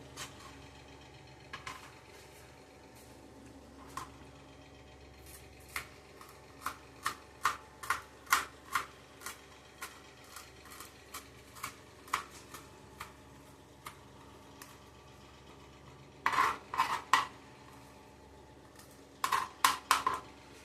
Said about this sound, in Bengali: এবার আমি ছুরিতে করে ধনেপাতাটা কেটে নেব।